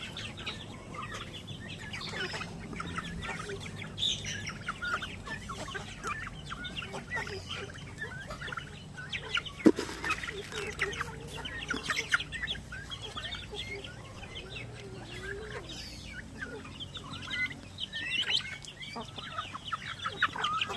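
Native chickens cluck steadily in a farmyard alongside other fowl, a busy overlapping chorus of short calls at close to moderate distance, with no talk over them.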